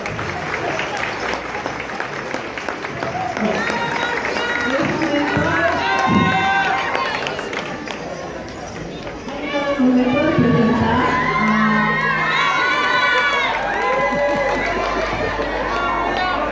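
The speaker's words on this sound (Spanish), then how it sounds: "Y otra vez nos recibimos con un fuerte voto de aplauso," A Peruvian school or company cultural event audience claps and cheers loudly throughout, with shouting and lively crowd chatter, the noise swelling again after a brief dip.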